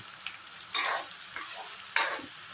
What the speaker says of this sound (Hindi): अपना जो बारीक काटा हुआ प्याज है उसको मिला दे रहे हैं तेल में